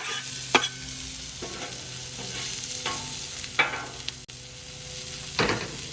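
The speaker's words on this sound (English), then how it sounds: "These are going to sizzle, take off." Onions, peppers and mushrooms sizzle steadily on a hot Blackstone griddle, with several scraping stirs of a spatula breaking through the soft frying hiss.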